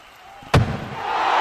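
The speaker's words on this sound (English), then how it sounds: "Big hit on Tide." A big body check in ice hockey lands as one sharp, heavy thud against the boards, followed by rising crowd and arena noise.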